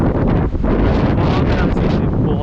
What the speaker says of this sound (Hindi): यहाँ पे हवा कितनी तेज़ आ रही है